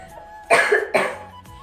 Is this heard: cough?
yes